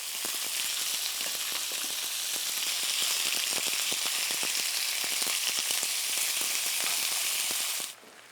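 Thin-sliced beef sizzles loudly and continuously in a stir-fry pan, a dense hiss dotted with rapid crackles and pops, nearby with no talk, dropping off sharply just before the end.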